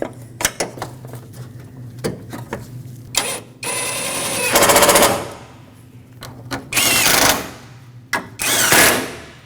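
A power tool drives intake snorkel bolts on a 2005-2021 Nissan Frontier 2.5L four-cylinder, making loud, close bursts of rapid mechanical rattling. Several short clicks come first, then three longer runs separated by brief pauses.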